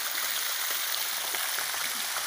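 A resort water fountain splashes and trickles in a soft, steady hiss, fairly distant and low in level, with no voices over it.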